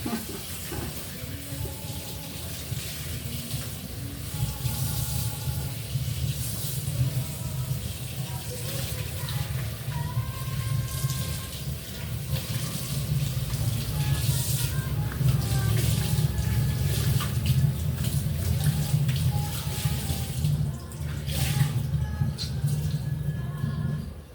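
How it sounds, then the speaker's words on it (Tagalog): Steady running tap water while washing dishes, with a constant low rushing hiss and faint clinks, continuing throughout at a moderate, close level. "tapos na akong maghugas ng pinggan"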